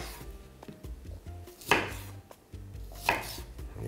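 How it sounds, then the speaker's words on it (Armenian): Two small onion heads being chopped into pieces on a board, a steady run of knife taps with two louder, sharper cuts, close and clear with no talk. "Երկու փոքր գլուխ սոխը կտրատում ենք մի քանի մասի, որ հարմար լինի աղալը։"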